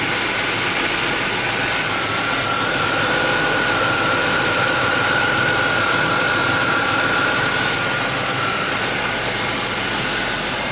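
A Ford Taurus 3.0L OHV engine idles steadily after a water and vinegar flush, a smooth continuous close hum with a faint whine running throughout and no talking.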